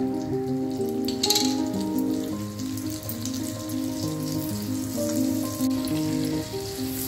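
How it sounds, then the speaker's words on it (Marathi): Cumin seeds, half a spoon, crackling in hot butter in a pan for a paneer bhurji, a steady close sizzle running under a loud background melody throughout. "थोडंसं तापलं की त्याच्यात आपण जिरे घालतोय, अर्धा चमचा"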